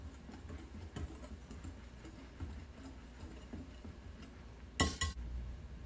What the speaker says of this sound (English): you would take your whisk and you would whisk the ingredients together until well